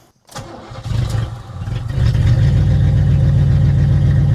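A marketplace muscle car with a cammed engine cranks briefly, catches and settles into a loud, loping idle that holds steady close to the microphone.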